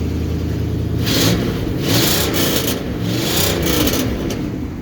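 The engine of a 1964 Ford Galaxie, already warm, is revved several times in quick succession, each blip rising sharply over a rough, loping idle, loud and close with no voices.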